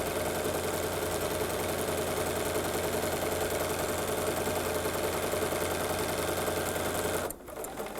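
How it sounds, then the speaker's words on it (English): A steady, rapid mechanical whir from a sewing machine stitching quilt fabric past pins, running continuously and close before stopping abruptly near the end. "I can sew right past my pin, and I'm not in any danger of hitting that pin"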